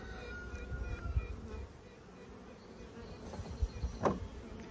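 Honeybees buzzing inside a hive of a queenless colony, a dense, soft, continuous hum with occasional louder individual bees flying close past.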